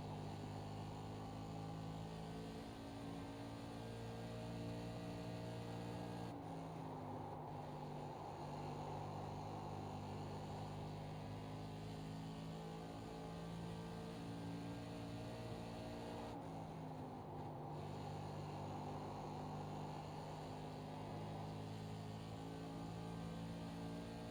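SK Modified race car engine from the cockpit of the iRacing video game on a lap of USA Speedway, a steady droning hum with layered harmonics that dips briefly twice as the car lifts through the corners.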